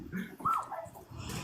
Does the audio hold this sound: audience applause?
no